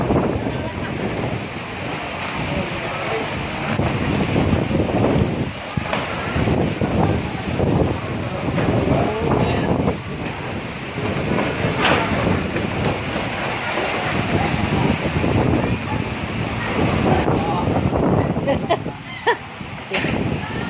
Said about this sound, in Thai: ลมแรงแรง